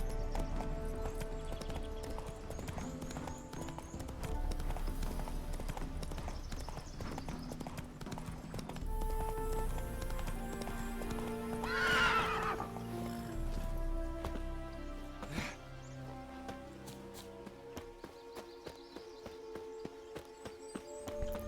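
Roach, a horse in Witcher 3, moves at a steady clip-clop of hooves with a brief whinny midway, layered over game music and ambience.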